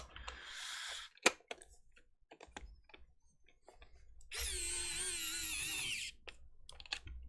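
A small electric screwdriver backs out screws from a Nintendo Virtual Boy controller, giving one loud, close whirring burst of about two seconds midway, surrounded by scattered clicks and handling taps.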